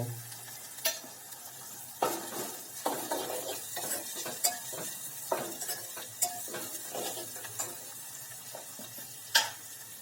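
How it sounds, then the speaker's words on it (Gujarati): Green garlic hitting a hot pan of sour rotlo, with a steady sizzle and frequent scraping stirs and clinks of a utensil against the pan, sharp knocks standing out near the start and end. "તો હવે તેની અંદર લીલું લસણ પણ ઉમેરી દઈએ"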